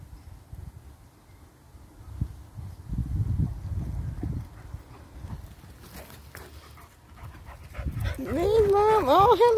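Dogs come back into the room, audible panting and whimpering building near the end, with a high whine over low snuffling and movement, while a person talks throughout.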